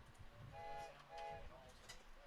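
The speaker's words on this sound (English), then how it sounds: "can hear the big train whistles in the crowd" Train whistles blown by fans in the crowd at a summer collegiate baseball game, two or three short harmonic toots rising over the stadium murmur and distant chatter.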